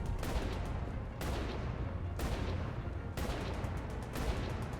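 Gunfire in Mass Effect 3, with four or five heavy, booming shotgun-like blasts about a second apart over a constant dense roar of battle.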